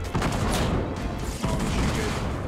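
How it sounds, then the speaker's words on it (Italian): Loud explosion and gunfire burst in a Fortnite Battle Royale match, dense and sustained blasts filling the whole stretch with a second booming hit midway, with game chatter mixed in. "Minchia, l'esplosione ha distrutto tutto."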